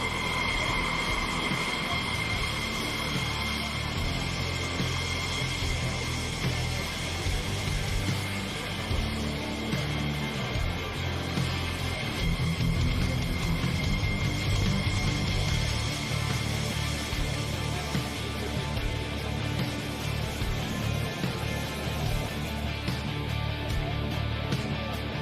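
Bill Stein's aerobatic airplane flies a power aerobatic routine at an airshow, starting from about 1,500 feet, giving a steady, distant engine drone with shifting tone that carries on throughout.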